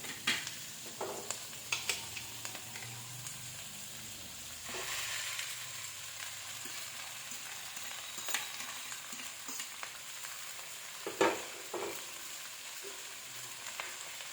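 Street-style veg chow mein noodles and vegetables stir-fried over a high flame, with a steady sizzle broken by repeated scrapes and tosses of the spatula against the pan, close and moderately loud, no talking.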